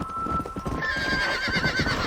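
A horse whinnies loudly over rapid clip-clopping hooves in the Red Dead Redemption video game, the neigh rising and wavering for about a second while the galloping rhythm continues close by.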